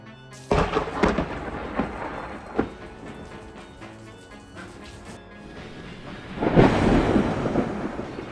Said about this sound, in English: thunder roaring through the storm